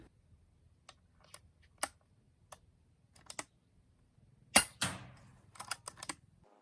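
A Wildcat Mk2 air rifle firing JSB Hades .177 pellets: a series of sharp, dry, isolated cracks spaced irregularly across a quiet room, with a louder shot midway and faint clicks between.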